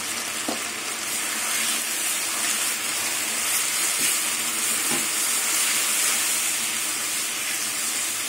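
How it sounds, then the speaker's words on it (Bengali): Cumin powder and spice masala sautéing in a pan for a Bengali prawn and cauliflower curry, giving a steady close, loud sizzle with occasional soft stirring scrapes and no talk. "এবার এই মশলা দিয়ে কিছুক্ষণ কষিয়ে নেব।"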